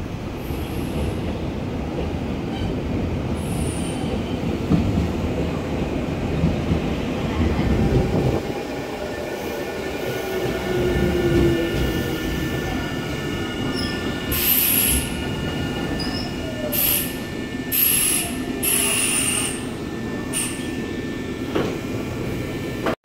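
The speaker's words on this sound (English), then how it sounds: "our train is coming up here on the left" A commuter train pulls into a station in Japan, wheels squealing loudly and continuously over a heavy rumbling roll, with sharper high screeches near the end as it slows.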